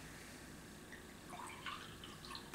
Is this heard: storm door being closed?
no